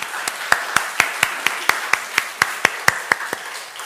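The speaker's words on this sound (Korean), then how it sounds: "하나님께 영광의 박수 올려드리겠습니다" A church congregation applauds, with sharp claps falling in a quick, even, steady rhythm, about four per second, that carry clearly throughout.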